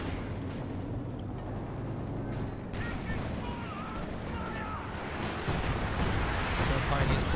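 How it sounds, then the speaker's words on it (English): Tank artillery in a World War II strategy game with Shermans and Panzers thuds and rumbles in a steady low barrage. A few distant bangs and whistles stand out as a commentator talks over the battle. "More tank artillery."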